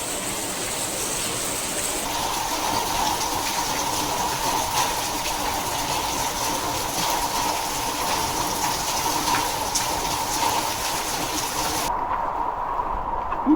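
Heavy rain pours steadily around a parked car, a continuous dense hiss that stays loud and even throughout, with a faint higher rushing layer above it.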